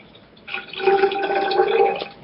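Rockstar sports drink water poured into a container, a steady liquid trickle that starts after a brief quiet moment and runs evenly for close to two seconds, close and moderately loud.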